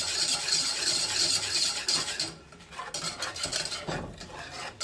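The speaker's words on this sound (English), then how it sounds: "I will continue to whisk this because I have an egg in here" Someone whisks a mixture of egg, rum and vanilla in a bowl: a quick, close, rhythmic scraping and clinking of the whisk that runs steadily, then slows into looser strokes with small taps.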